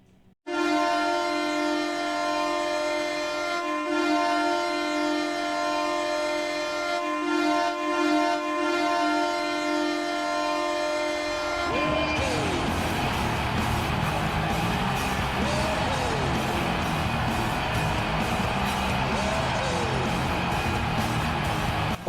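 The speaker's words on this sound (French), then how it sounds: "la scène de but des Sénateurs, c'est pas la plus agréable à entendre, même si elle est intense" At an Ottawa Senators NHL game, a long, loud goal horn blares steadily, then gives way to upbeat goal music with a pounding beat that carries on to the end.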